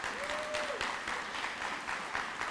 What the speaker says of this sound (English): I would like the students to clap for the faculty and all their success of bringing us forward.